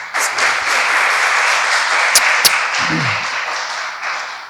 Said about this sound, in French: Driss Alaoui Mdagri, sous vos applaudissements, s'il vous plaît